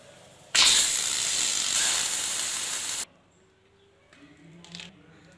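A pressure cooker holding mutton korma hisses loudly in a steady burst of steam for about two and a half seconds, then cuts off abruptly, leaving faint kitchen noise with a couple of small clinks.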